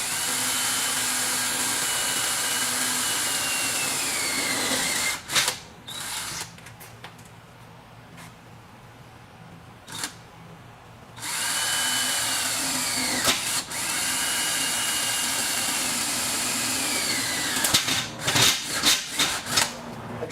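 Power drill boring holes for a rolling shutter window installation. Long, loud, steady whines run close by, broken by a quieter stretch with a few short bursts, then more sustained drilling and some scraping near the end.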